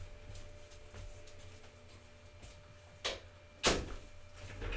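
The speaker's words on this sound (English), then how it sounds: "Let me shut the door." A door being shut indoors, a soft click followed by a louder firm thump as it closes, fairly close in an otherwise quiet room.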